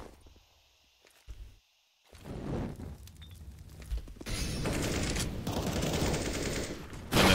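Rapid gunfire crackles during a first-person shooter esports match, with brief bursts early, a pause, then sustained loud automatic fire and impacts toward the end.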